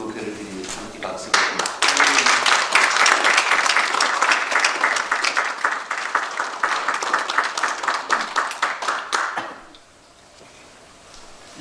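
Sustained applause from a church congregation at a New York Korean elders' association New Year thanksgiving service honoring a plaque presentation, loud and dense for about eight seconds before tapering off into quieter room tone.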